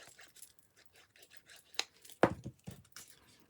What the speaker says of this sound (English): I've just cut round with deckled edge scissors.